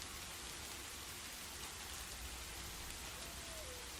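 Steady rain falls as a faint, even patter, used as background ambience for a tabletop role-playing game. The rain continues without break, and no voices are heard.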